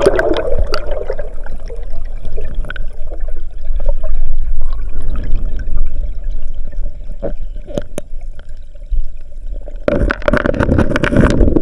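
Strong river current at Ayusan in Tiaong, Quezon, heard as a loud, close, continuous rushing and gurgling of water, with a voice speaking over it at times and a burst of splashing near the end.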